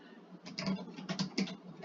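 Rapid clicking keystrokes on a computer keyboard come in a quick uneven burst, close and fairly quiet, with no talking.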